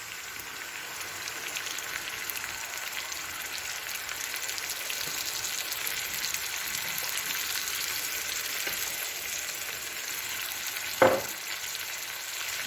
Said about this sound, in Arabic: يعني كما شفتوا هذا البصل تذبل مع الثوم